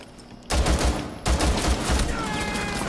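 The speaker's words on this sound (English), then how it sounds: "They're just shooting at each other with pistols." Rapid gunfire crackling in Rainbow Six Siege, two loud bursts of close shots in quick succession filling the clip, with a faint voice underneath.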